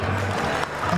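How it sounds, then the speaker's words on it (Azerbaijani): Guests at an Azerbaijani wedding applaud the bride and groom, a brief burst of dense clapping with loud music underneath. "Lütfen bu gözəlliyi alqışlayaq."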